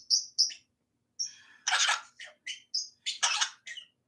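A pet bird, a young male kept indoors, chirps and squawks nearby in bright, sharp bursts, several separate calls with short pauses between them and no talking.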